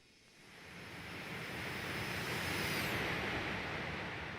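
An MD-80 airliner in a flight simulator game makes a flyby: a broad, steady jet roar that swells over the first second and a half and then holds loud and close, with no talking.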